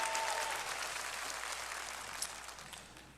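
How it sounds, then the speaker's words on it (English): A church congregation bursts into a brief round of applause during a Wednesday evening service at a Baptist church, the clapping dense and steady throughout before gradually thinning. "Come on, we can clap it up for him for that."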